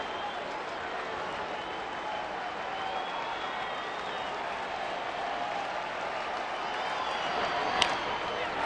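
Baseball stadium crowd at an Angels–Rangers game, a broad steady wash of applause and cheering heard from a distance that swells slightly near the end.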